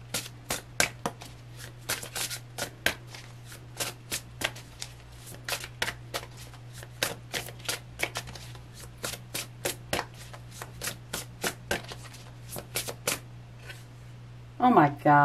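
A tarot card deck shuffled close up, with quick riffling bursts and soft card flicks repeating over a low steady hum, ending in a louder burst of handling.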